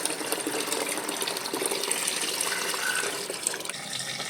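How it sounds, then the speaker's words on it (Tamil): Water poured into a liquid mixture of buttermilk and asafoetida, a steady continuous gushing and splashing, close and moderately loud, with no voices. "இதோட அஞ்சு லிட்டர் தண்ணீர் கலந்துக்கலாம்"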